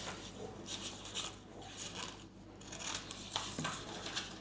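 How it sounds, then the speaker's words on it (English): Scissors snip through paper being trimmed to fit a picture frame for mounted trout and salmon flies, a series of close, quiet cuts with soft rustling between them. "I'm just cutting this paper to size so it'll fit into the frame"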